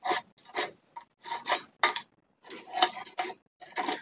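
Hacksaw blade scraping scale out of a jet pump, heard as a series of about eight raspy, metallic scraping strokes in an irregular rhythm, close and fairly loud, with short pauses between strokes and no talking.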